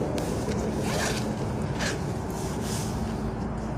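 A bag being unzipped and opened: a continuous close rasping zipper sound with a few sharper pulls, set against steady background noise.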